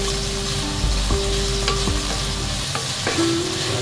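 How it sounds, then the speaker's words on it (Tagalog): Chicken and broccoli stir-frying in a pan, a continuous loud sizzle over a low hum, with a few scraping stirs of a utensil, close by and without speech. "Good set yung stir fry natin. Mas dark brown na siya."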